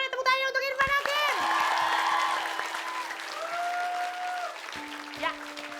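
A studio audience claps and cheers on a TV entertainment show, a lively wash of applause and whoops mixed with tonal music stings and a host's voice over the top.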